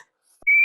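A single sharp, shrill whistle blast starts abruptly after a moment of near-silence, holds a steady piercing tone, and is cut off short.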